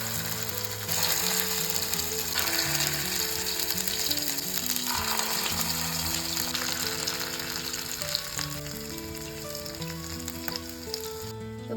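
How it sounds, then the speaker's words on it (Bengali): Posto bora, poppy seed fritters, frying in hot oil in a kadai, a steady dense sizzle and crackle running throughout with strong tonal hum and mechanical ticking layered over it. "এবার বড়াগুলো ভেজে নেবো। বড়াগুলো দিয়ে দিচ্ছি।"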